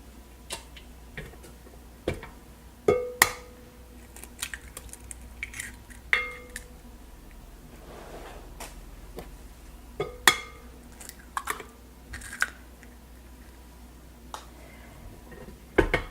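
Banana bread batter with eggs being mixed in a bowl, a quiet run of irregular clinks and taps from the utensil against the bowl, close and sparse.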